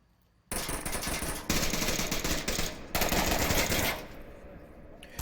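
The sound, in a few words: gunfire in the VR shooter video game Onward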